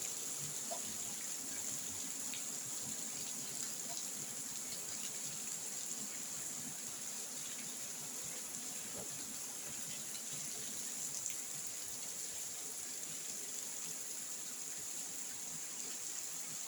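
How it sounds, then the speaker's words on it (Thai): Heavy rain falling steadily outdoors, a continuous broadband wash of drops with a bright hiss, constant and unbroken with no voices over it. "ฝนตกพี่น้องนี่"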